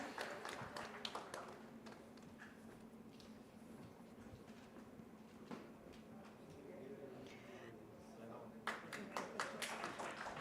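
Audience clapping for lucky winners at the Broadband India Summit 2025. Bursts of claps open and close the stretch over a murmuring hall, with quieter, scattered taps in between.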